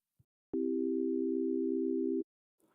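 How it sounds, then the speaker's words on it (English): A steady, pure synthesizer sine-wave tone hums at a constant pitch for under two seconds, starting and stopping abruptly with faint clicks, alone in near silence. "click and drag the first bin to create a sine wave"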